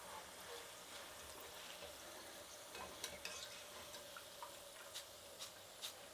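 Field beans frying in hot oil for a crunchy mixture snack, a soft steady sizzle with scattered light crackles and pops growing more frequent toward the end.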